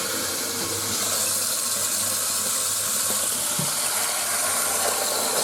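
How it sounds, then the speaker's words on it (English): TOTO Drake toilet bowl filling with water after the supply is turned on, a steady close hiss and rush of flowing water with no breaks. "It's time to turn on the water and let the bowl fill up."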